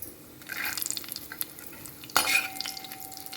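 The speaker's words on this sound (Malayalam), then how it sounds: "നന്നായിട്ട് ഒന്ന് വറുത്ത് കോരി എടുക്കാം" Oil sizzling steadily in a pan as raisins fry while a spoon stirs and scrapes, with a sharp metallic clink partway through.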